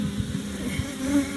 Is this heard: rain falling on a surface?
no